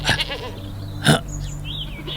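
A goat near the entrance of a haunted mansion gives two short, close bleats, then a quieter wavering cry over steady background noise.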